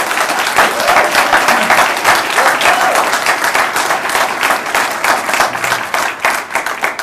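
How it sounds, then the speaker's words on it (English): Audience applause at a talk rises as dense, close clapping from a sizeable crowd, loud and sustained throughout with no speech over it. "So please give a round of applause to David Smith."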